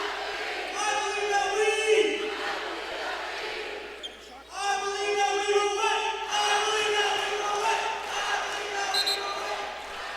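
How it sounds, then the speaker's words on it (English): Crowd chanting in rhythmic unison at a college basketball game, loud and sustained with a brief dip midway before the chant swells again. "Here's the chant here."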